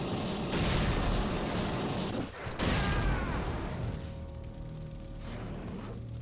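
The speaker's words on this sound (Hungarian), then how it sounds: "eldobtam a Flame Grenade-et, gyújtottam meg és ezáltal robbantottam magamra" A flame grenade detonating in the video game The Thing: Remastered, a loud, dense roaring blast that fills the sound, briefly dips, then swells again before fading into a lingering rumble.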